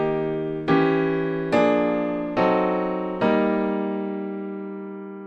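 The same common-tone diminished seventh chord progression played faster: four close, loud chords struck in quick succession, each ringing and decaying, with no voices.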